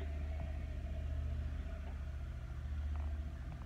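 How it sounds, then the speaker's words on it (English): A loud car rumbles steadily nearby during an outdoor biking outing, a low continuous engine drone holding level throughout without talk. "It's a loud car."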